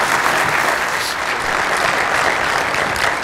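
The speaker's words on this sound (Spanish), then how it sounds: "Vamos a decir al Pastor Montelón un fuerte aplauso esta noche." Church congregation applauding loudly at an evening Spanish-language service, a dense, continuous roar of clapping that stays strong and even from start to finish.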